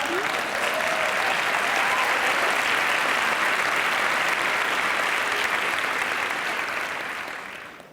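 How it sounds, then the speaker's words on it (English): Sustained applause from a large conference audience at a museum association annual meeting rings out at full strength for several seconds, then tapers off near the end. "She says you were clapping."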